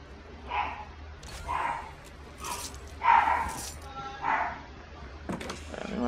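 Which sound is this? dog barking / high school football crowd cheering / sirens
dog barking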